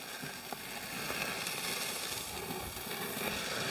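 Lincolnshire sausages sizzling on a charcoal barbecue grill, a steady close hiss with scattered small crackles and pops running throughout, no talk.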